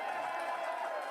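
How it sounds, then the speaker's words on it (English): A happy crowd cheers for MP Clifford Small at a 2025 Canadian election gathering in Central Newfoundland, a steady dense roar of voices and clapping, with talk over it. "That's a happy crowd there in Central Newfoundland as Clifford Small is on his way back to Ottawa."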